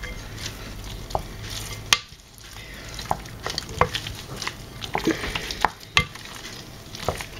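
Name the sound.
stirring eggs into choux pastry dough with spoon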